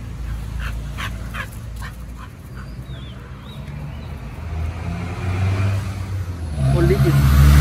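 A dog at a dog hotel gives a few short whimpers and barks alongside another dog, mixed with ambient noise and rising car or engine rumble in light rain.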